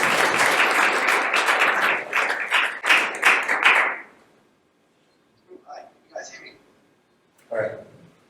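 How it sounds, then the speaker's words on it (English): Audience applause for a presenter at an industrial training night, a burst of clapping that dies away after about four seconds, followed by scattered taps and brief speech. "Please give him a round of applause."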